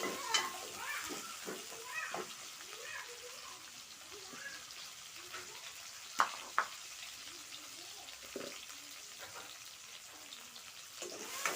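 Onion, green chili and tomato fry in oil with mustard seeds in a pan for a Sri Lankan curry, a steady soft sizzle broken by a few sharp stirring clicks and pops.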